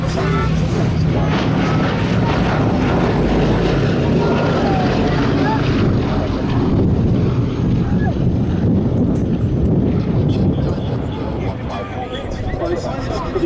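Boeing B-17G Flying Fortress bomber at the Duxford air show making a final low pass with smoke on two engines: a loud, continuous propeller drone buffeted by wind noise, with an announcer talking over it throughout.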